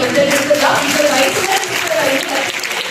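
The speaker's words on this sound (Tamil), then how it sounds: "பெரிய கைத்தட்டல்" A large crowd at a grand temple festival gives a big round of applause, loud, close and continuous, with voices faintly running underneath the clapping.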